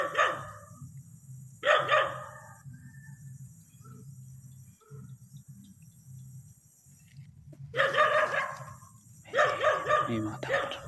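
Short bursts of dog barking, one pair early and a louder run toward the end, carry over a constant night insect drone outdoors, with a bird calling faintly at times.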